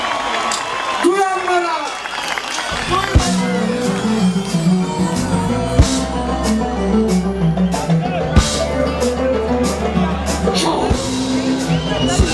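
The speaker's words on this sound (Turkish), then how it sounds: "Bütün mühendislere şöyle müzisyen kardeşlerime güçlü bir alkış alalım bakalım." Concert crowd at a show during the Kastamonu Days festival cheers and applauds loudly and steadily over ongoing band music, with a voice speaking over the crowd.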